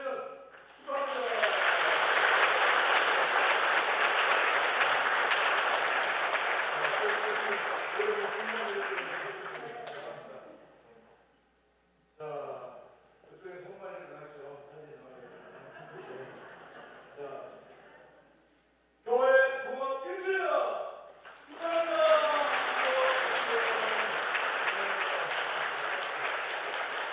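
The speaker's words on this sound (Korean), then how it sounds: "크게 박수를 보내주시기 바랍니다" A church congregation marking a one-year merger anniversary breaks into sustained loud applause, fading after about ten seconds; a voice speaks over a quieter stretch before a second round of clapping swells up again.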